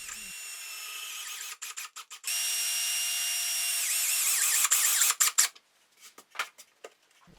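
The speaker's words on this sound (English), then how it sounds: "so I have to screw this piece in place." A power drill driving screws into the wood of a bird feeder under restoration, with a sustained high whine of the motor, short stuttering bursts as it stops and starts, then a few clicks and taps.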